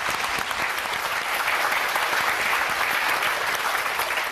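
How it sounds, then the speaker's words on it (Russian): A studio audience at a Russian television show applauds, dense steady clapping from many hands filling the room without a break. "Спасибо за аплодисменты"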